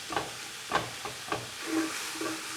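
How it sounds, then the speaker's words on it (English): Venison sausage browning in a pan gives a steady soft sizzle, with a few louder scraping stirs at close range and no talk. "let the seasoning soak in while we finish browning up this sausage"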